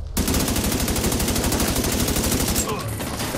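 Automatic gunfire in The Division 2, a loud, fast, steady stream of rapid shots for about two and a half seconds before it stops.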